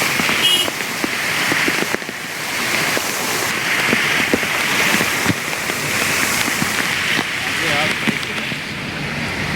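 Heavy rain pours onto flooded streets in Junagadh, a dense, loud, constant hiss that fills the whole stretch, while someone talks over it.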